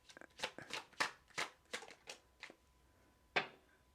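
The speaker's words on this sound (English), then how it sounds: "The first one that came out was shuffle and pull again." Tarot cards are shuffled in a run of crisp, close riffles and snaps, followed by a pause and one sharp card pull, quiet overall with no talking.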